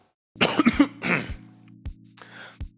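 Several harsh coughs from a person with a chest cold bringing up green mucus burst out close by, followed by a few throat-clearing grunts, with a low steady hum underneath.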